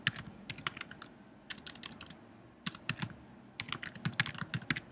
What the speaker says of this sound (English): you're basically going to type in your email